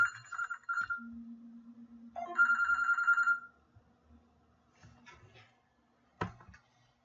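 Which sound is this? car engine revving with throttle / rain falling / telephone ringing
telephone ringing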